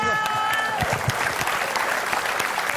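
A studio audience on a quiz show bursts into continuous applause, loud and dense for the whole moment, with a brief voice or tone audible at the very beginning.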